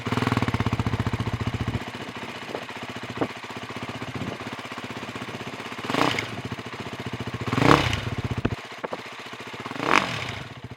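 A Ducati Hypermotard 698 Mono single-cylinder engine thumps close by with a rough, pulsing idle and a desmodromic valvetrain clatter, blipping into three short revs over the steady beat.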